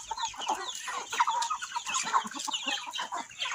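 A flock of meat-breed caipirão chickens clucks and murmurs continuously nearby, overlapping short calls and squawks at a moderate level, with no talking.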